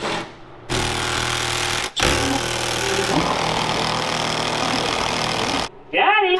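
Impact gun on a bolt during the teardown of an old broken Ford tow truck: loud, rapid hammering bursts, one short burst, then a longer sustained run that shifts in tone, with a brief clattering sound at the end.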